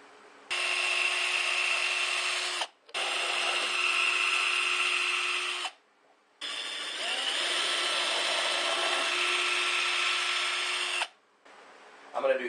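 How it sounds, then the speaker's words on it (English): A power drill whirs loudly in three long bursts with short pauses between, biting steadily into wooden dowels to fix them onto the back of a DIY solar air heater, plus a faint brief sound at the end. "now I'm going to drill the dowels and secure them onto the back"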